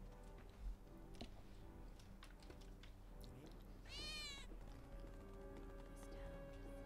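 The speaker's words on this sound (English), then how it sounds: "I think one of Betty's cats might be nearby" A cat meows in Final Fantasy VII Remake, with one clear rising meow partway through amid faint game ambience, light ticks and footsteps, heard quietly at a distance.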